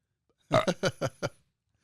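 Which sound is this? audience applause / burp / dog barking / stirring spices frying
burp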